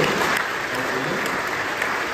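A church congregation at Sunday Mass breaks into a short burst of applause, even and full clapping filling the room for a couple of seconds.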